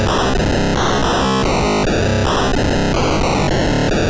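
A glitchy riff from a wave synth with heavily modulated parameters on a Dirtywave M8 tracker plays loud and dense, stepping through abrupt stuttering tonal changes and harsh distorted texture, with no talking.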